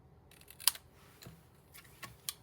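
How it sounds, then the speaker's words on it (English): Scissors snipping a paper card label at a card-making table, a few sharp crisp cuts spaced irregularly, close and fairly quiet. "where's my scissors? Right in front of me. All right, so I'm just going to cut."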